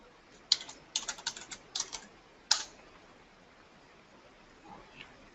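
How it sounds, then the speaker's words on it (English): Quick bursts of keystrokes on a computer keyboard as a search word is entered, a few clustered clicks followed by a single sharper tap, close and fairly quiet in a calm room. "I can enter a word into the search field and either press the search button or enter on my keyboard."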